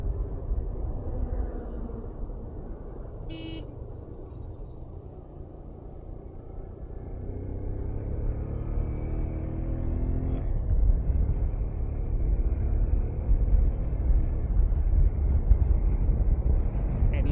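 A motorcycle climbs a road on an early-morning ride, its engine a steady low rumble that swells slightly as it accelerates, with wind noise over it.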